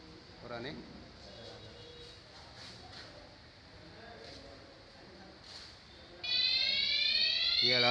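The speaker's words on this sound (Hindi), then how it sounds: "ये अलार्म बजा" A fire alarm panel wired to a fire exit door sounds a loud, steady electronic alarm that cuts in abruptly and holds, following quieter room noise and people talking.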